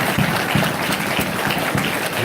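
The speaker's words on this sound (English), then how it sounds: "Give these men a round of applause." Loud, sustained applause from an audience at a religious summit, dense and continuous with a few stronger claps standing out, no talk over it.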